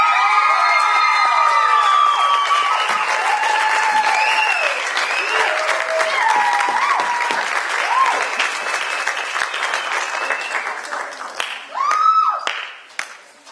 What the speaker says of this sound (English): Another round of applause for those